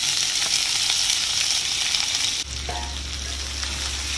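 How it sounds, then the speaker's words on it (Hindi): Cumin seeds frying in hot oil for Punjabi sarson ka saag, with more ingredients added partway; a steady, close sizzle that changes and settles as they go in, no talking. "ज़ीरे को थोड़ा सा फ्राई होने देते हैं और अब साथ में हम ये सारी चीज़ें डाल देते हैं।"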